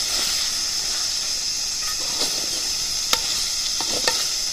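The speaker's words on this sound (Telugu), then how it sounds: "దీన్ని కూడా బాగా ఈ నీళ్ళలో ఈ టమాటా గుజ్జులు బాగా వేగనిద్దాం" Tomato pulp frying in a pan for chicken curry with drumsticks, cooked outdoors under a mango tree: a constant hissing sizzle with a few sharp scrapes and taps of a stirring utensil, close and with no voices.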